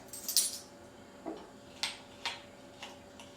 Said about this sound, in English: you just make a level tablespoon of baking powder in there